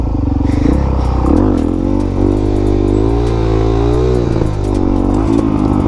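A Suzuki DRZ400SM supermoto engine revs up and down repeatedly during wheelie practice, a close, loud single-cylinder growl that rises and falls in pitch with a faint mechanical clatter.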